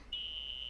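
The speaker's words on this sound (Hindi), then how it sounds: "अलार्म है क्या?" A steady high-pitched electronic alarm tone starts abruptly after a brief moment and holds continuously at an even level, loud and alone with no voices.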